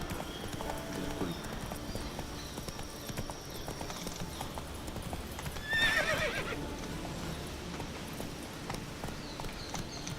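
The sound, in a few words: horse hooves and neighing in video game Witcher 3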